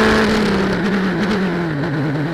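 A Formula 3 race car screams as its engine accelerates during a Brazilian F3 race at Santa Cruz do Sul, a loud close whine rising and wavering through the gears, with no voices.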